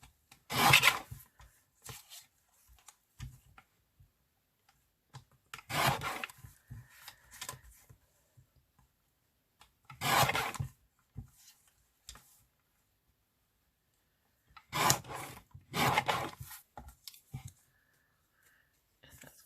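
Paper tags trimmed on a guillotine, the blade cutting in four or five separate rasping strokes spaced a few seconds apart, close by, with quiet pauses and faint handling noise between cuts.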